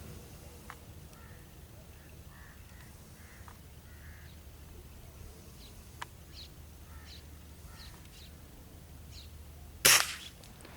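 A single sharp crack from a Diana 34 air rifle rings out near the end of an outdoor dove hunt, loud against a quiet background of cawing crows and scattered bird calls.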